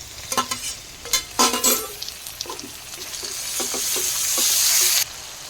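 Tomato tossed into a pan of frying onion and green chillies, sizzling loudly with a few sharp stirring clatters early on, then a steady hiss of hot oil building toward the end, no voices.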